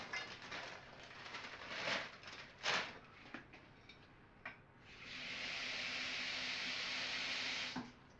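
Water is poured into a cooking pot of lima beans, a steady hissing pour lasting about three seconds after a few scattered clinks and knocks of handling.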